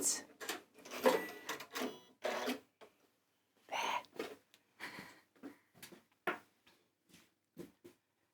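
A domestic sewing machine stitches in reverse with quick clattering bursts and pauses, running fairly close and moderately loud, with no talk over it.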